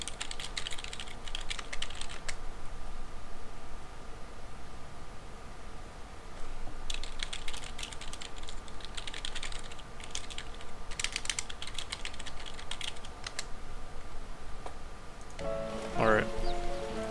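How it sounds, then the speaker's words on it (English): Computer keyboard typing in bursts of rapid clicks during a SimCity live stream, close and steady, separated by short pauses, with a faint voice at the end. "Sorry, I was typing on the stream there."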